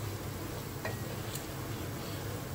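Coconut latik fries in a pan with a constant soft sizzle while a spoon stirs slowly, a faint scrape or clink standing out briefly over the steady hiss.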